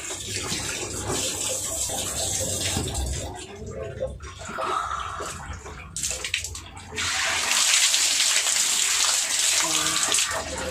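Water pours in a steady rushing stream, fuller and louder toward the end, with a voice talking quietly beneath it.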